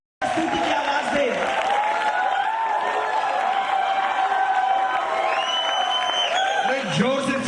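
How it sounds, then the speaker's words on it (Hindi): A church congregation shouts praise and cheers loudly in a continuous crowd roar, with individual voices rising in whoops and cries above the mass of sound. "Come on, somebody give a shout of देखो praise."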